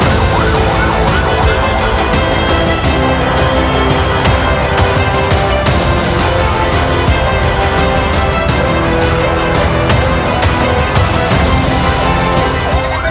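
A loud ambulance siren wails continuously on a national highway as private buses race ahead and block its way, with steady traffic noise underneath and no talking.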